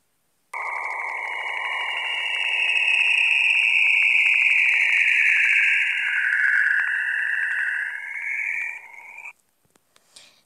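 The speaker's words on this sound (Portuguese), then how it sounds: "Esse é o barulho de Júpiter, porque em Júpiter tem grandes tempestades." Jupiter radio emissions recorded by the Juno probe: an eerie, warbling electronic tone sweeps and wavers continuously for several seconds, like sci-fi static whistles, then cuts off abruptly.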